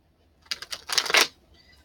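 Tarot cards being shuffled by hand, a short quick run of riffling, papery flutters that rises to a louder burst and then stops, otherwise quiet.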